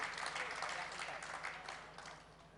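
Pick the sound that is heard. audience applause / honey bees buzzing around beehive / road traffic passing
audience applause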